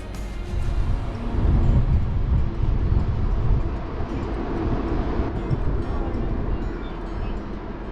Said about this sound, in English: Wow, that train is so long.